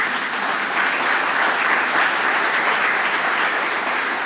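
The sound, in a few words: audience applause for the curator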